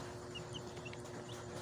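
Newly hatched chicks peep faintly, with a few short, high chirps scattered over a soft, steady background hum.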